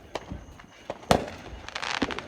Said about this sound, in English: I think he's getting more fireworks.